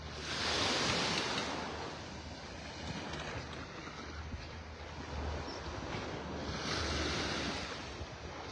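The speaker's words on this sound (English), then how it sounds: "It's getting breezy out here." Breezy wind buffets the microphone on Vanderbilt Beach in North Naples, Florida, with steady surf washing in behind it and louder gusts at the start and near the end.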